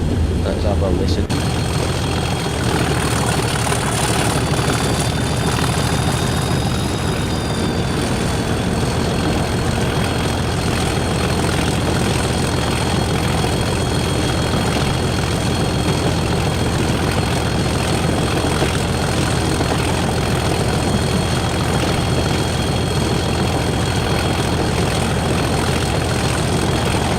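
A Class 97 diesel locomotive engine runs steadily on a railtour from Norwich to Lowestoft, a loud continuous drone with high whining tones that dip slightly early on, holding unbroken for nearly half a minute.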